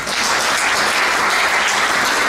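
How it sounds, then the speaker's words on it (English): Audience applause at a live museum fundraising relaunch ceremony, a dense, even wash of many hands clapping throughout, loud and sustained with no talk over it. "Please give them a warm round of applause."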